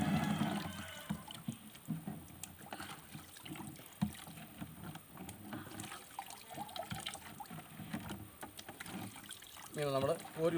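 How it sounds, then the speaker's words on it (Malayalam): Liquid weed killer scooped and poured into a sprayer outdoors, soft watery splashing and trickling under a man's speech, with a brief gurgling pour near the end. "കോരി ഇതിനകത്ത് നമ്മളങ്ങ് ഒഴിച്ചു കൊടുത്താൽ മതി"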